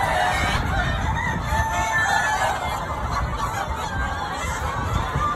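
Chickens and roosters at a poultry farm in Saudi Arabia, a dense steady chorus of clucking with crowing calls rising through it, fairly loud and close, no talk.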